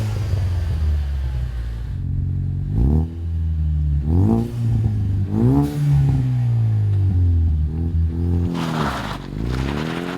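A Ford Mustang EcoBoost fitted with a MagnaFlow Street Series competition cat-back exhaust revs and accelerates in repeated loud pulls, its deep, rumbling exhaust tone rising and falling while driving down the road.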